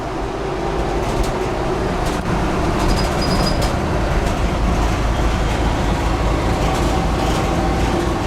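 Cabin noise inside a bug-out vehicle with no headliner or carpet and bare floors, cruising at roughly 55 to 60 mph: a loud, constant low road rumble and engine drone that fills the space, with faint rattles.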